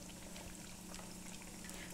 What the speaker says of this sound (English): I don't know if you can see that, but it is bubbling.